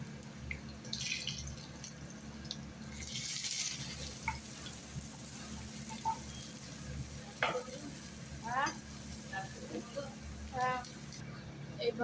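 Garlic frying in a pan with cumin seeds for paneer bhurji gives a steady low sizzle, with faint stirring scrapes and a few soft clinks over the hiss.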